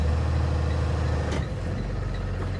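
A school bus drives during an air brake pre-trip test, with a loud steady diesel engine rumble that dips slightly midway as it slows, with no talking.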